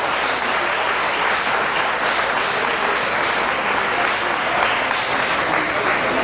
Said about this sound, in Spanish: para quienes pido un fuerte aplauso